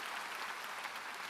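A church congregation at a Sunday afternoon worship service in Gwangju claps briefly, the soft, even patter sounding distant and quiet.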